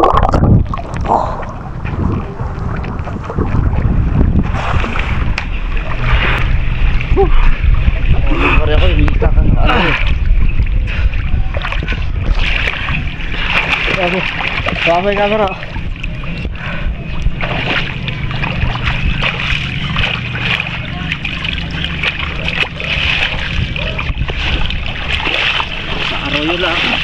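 A small boat is rowed on a river, with irregular paddle splashes and water sloshing close by over a steady wind rush, while people talk throughout.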